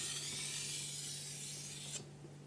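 Sharpening stone drawn a few times along a blade edge to take off the burr, a close, soft abrasive rasp that carries steadily and then stops abruptly near the end.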